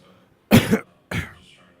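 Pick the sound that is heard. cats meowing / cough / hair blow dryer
cough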